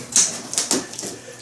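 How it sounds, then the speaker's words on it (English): Scissors snip through a strong plastic strap holding a power rack shipping box shut, making a few quick, crisp cuts close up. "I'm just using scissors for this."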